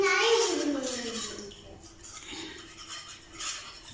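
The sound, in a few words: stirring rasam in a pot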